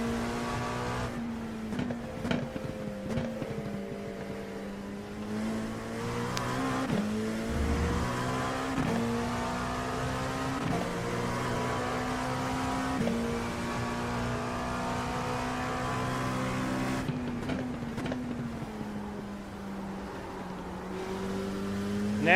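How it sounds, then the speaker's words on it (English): LMP2 prototype race car running at Sebring, a steady sustained engine drone with shifting pitch as it accelerates and changes gear, loud and continuous with no talk. "Now she's starting to feel a little more like the old LMP2 that we've driven for a long time."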